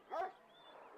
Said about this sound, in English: The dog started barking and jumping up and down happily.